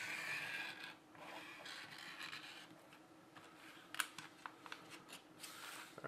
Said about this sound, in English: And I'm going to hopefully and carefully zip this package open.